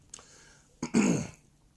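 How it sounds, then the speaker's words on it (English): A single gruff throat clearing, a short rasp and then a longer, louder one, close up with no talking. "Let me clear my throat here."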